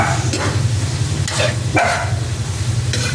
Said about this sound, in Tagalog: Gigisa na lang natin.